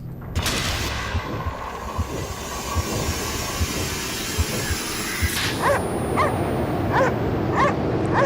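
In the video game Cryostasis, a dog barks several times in quick yips toward the end, close and clear over a constant rumbling, train-like industrial background drone.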